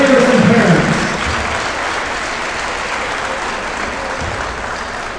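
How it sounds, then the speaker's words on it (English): A crowd in a school gym or hall at a Catholic school event applauds for the senior kids, dancers and parents. Loud continuous clapping follows a brief voice at the start and holds steady throughout. "Ladies and gentlemen, a huge round of applause for our senior kids, dancers, and parents"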